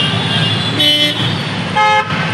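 Car horns blare in busy traffic heard from a rickshaw, with two loud toots over a steady rumble of engines close by.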